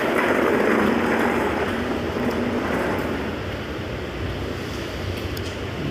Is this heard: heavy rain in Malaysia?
yes